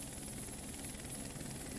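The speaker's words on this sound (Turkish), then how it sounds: "Helikopteri fark etti şu an Sainit." A helicopter in a Siren Head video makes a steady, dense whirring drone that holds unchanged throughout the short stretch, with no voices over it.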